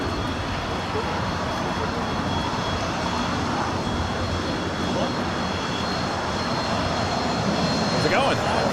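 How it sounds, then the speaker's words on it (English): A C-17 military transport jet taxies on the north side of LAX, its engine roar a steady, broad rumble from a distance under ongoing conversation and general airport noise. "C-17 taxiing there on the north side"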